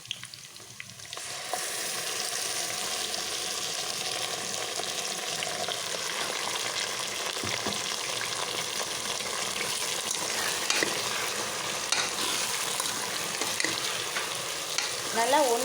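A ground tomato and onion paste sautés for radish sambar, a steady dense sizzle and hiss with continuous stirring scrapes, close and alone.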